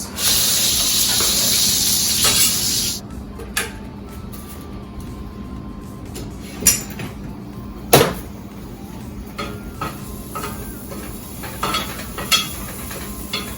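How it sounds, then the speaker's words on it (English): Shallots sautéing in olive oil in a pan, a loud steady sizzle for the first few seconds that drops to a quieter crackle with scattered clinks and taps. "I'm sauteing them until they are translucent."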